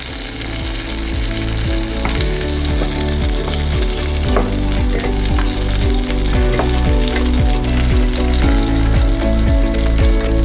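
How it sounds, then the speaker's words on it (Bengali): Pieces of rohu fish fry in hot oil with a loud, steady, close sizzle that runs unbroken, with no voices. "মাছটা ভাজা হয়ে গেল।"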